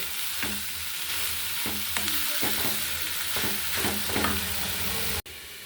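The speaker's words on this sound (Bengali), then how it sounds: "এই যে আবার একটু লাড়াচাড়া করে দিব আলুটা" Potatoes frying in a pan with a steady hiss, while a utensil stirs them in repeated scraping strokes, close and fairly quiet, with no talking.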